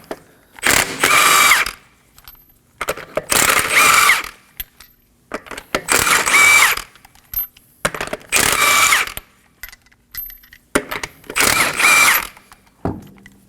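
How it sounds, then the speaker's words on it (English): Power tool with a 21mm socket spinning off lug nuts from a Kia Sorento front wheel, five loud, close bursts of whirring and ratcheting separated by short silences. "Using a 21mm socket, we're going to remove the wheel."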